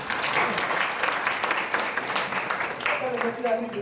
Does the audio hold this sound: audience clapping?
yes